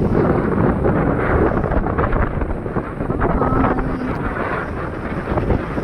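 Strong wind buffets the microphone at a beach, a loud, continuous roaring rumble with gusting surges that hold steady throughout.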